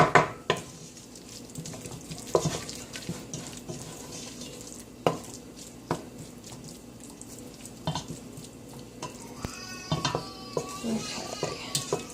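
Flour cooks in a pot as a thickener for chicken tortilla soup, a soft continuous sizzle broken by spoon stirs and clinks against the pot, close by with no speech.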